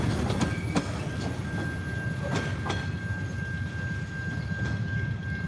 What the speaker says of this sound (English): That's an Australian mining train.